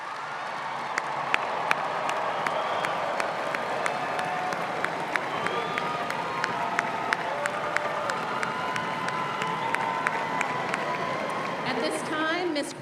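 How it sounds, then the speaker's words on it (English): Sustained applause and cheering from a large commencement crowd honoring the graduating class of 2025, dense steady clapping with whoops rising above it throughout, fairly loud and continuous. "One last round of applause for the class of 2025."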